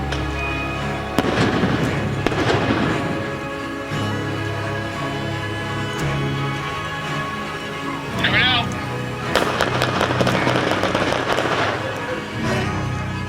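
Repeated gunfire from a police SWAT team at a vehicle standoff with a robbery suspect after tear gas, sharp cracks in bursts through the clip, mixed with voices and background noise.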